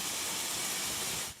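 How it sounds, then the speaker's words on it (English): Steady, loud hiss of steam escaping from a coal-fired steam locomotive, continuous and close before cutting off abruptly near the end, with no voices. "Sprays of steam flow constantly from various parts of the locomotive"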